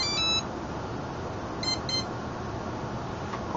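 Electronic speed controllers on an X450 graphite quadcopter beep after being plugged into the battery: a short tone at the start, then a quick pair of beeps, all over a constant hiss with no talking.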